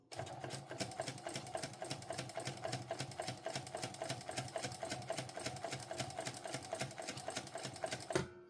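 A sewing machine stitches a sling pouch in a steady, rapid run of needle strikes, close and fairly quiet, stopping abruptly near the end.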